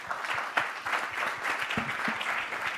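An audience applauds at a French solar thermodynamics conference as a round table closes, with dense, steady clapping throughout and a few sharper claps standing out.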